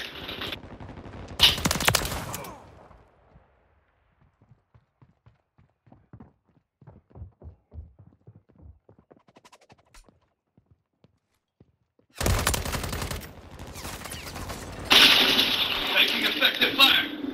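Call of Duty 3 multiplayer gunfire comes in loud, dense bursts at the start and again near the end. In between is a long quiet stretch with scattered faint ticks and thumps, and the last part is a sustained roar of shooting.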